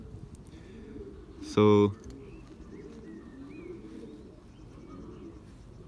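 Belgian racing pigeons in the top loft give a single short, loud coo that stands out over a low, steady background murmur, with a brief spoken word nearby.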